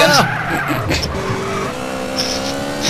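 A car drifting in MTA San Andreas, with loud sweeping tire squeals and engine revving, followed by a steady high-pitched screech of sliding tires, close and prominent amid game sounds.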